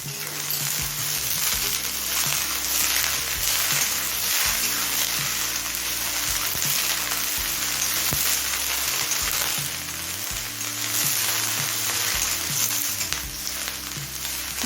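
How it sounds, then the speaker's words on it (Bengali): Eggplant and spring onion stalks fry with potato, carrot and cauliflower in a pan, giving a continuous close sizzle with occasional stirring scrapes and clatter, no voices. "বেগুন, পেঁয়াজ কলি দিয়ে মিনিট 2 ভেজে নিয়েছি।"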